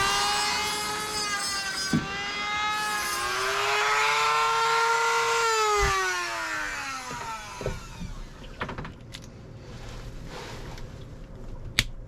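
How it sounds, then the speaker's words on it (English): A Dremel rotary tool grinds a slot into a stripped Phillips screw head on a sailboat, a loud rising and falling high-pitched whine for about seven seconds, then scattered clicks and taps as the tool winds down. "I'm gonna have to get in there with the Dremel and turn it from a Phillips into a flathead."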